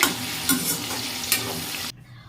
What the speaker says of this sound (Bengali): এখন 5 ভাজাটা ভেজে নিচ্ছি